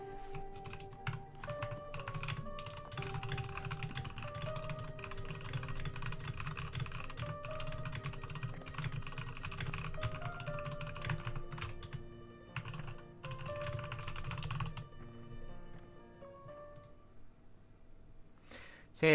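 Rapid, busy clatter of keys on a computer keyboard, close and fairly quiet, with a dense run of clicks for about fifteen seconds before thinning to a few scattered taps near the end.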